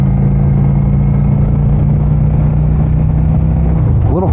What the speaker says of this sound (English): I'm just gonna downshift.